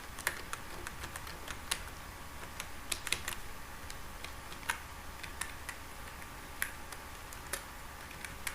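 Sparse, irregular keystrokes on a computer keyboard while HTML code is typed, quiet close taps with uneven gaps against a faint steady room hum.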